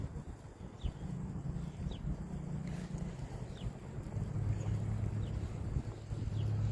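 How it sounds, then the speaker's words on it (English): Wind gusts across the microphone outdoors during a fishing session, a low, uneven rumble that swells and buffets continuously, growing stronger toward the end. "I'm just grateful that this wind is on my back."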